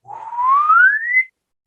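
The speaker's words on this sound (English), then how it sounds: "We even had a slide whistle." A slide whistle glides steadily upward in pitch for just over a second, loud and close, then cuts off into silence.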